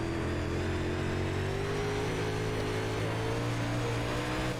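UMP modified race cars on a simulated dirt oval at Volusia Speedway Park hold a steady, droning engine roar. Another car runs close alongside, and its engine note rises gradually.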